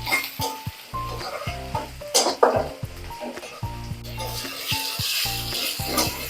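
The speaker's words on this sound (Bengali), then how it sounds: "তেলের সঙ্গে এখন হচ্ছে পেঁয়াজ আর রসুনটাকে ব্রাউন কালার করে ভেজে নেব" Onion and garlic frying in oil in a pan, a constant sizzle with repeated scraping and clinks of a spatula stirring against metal, close and alone.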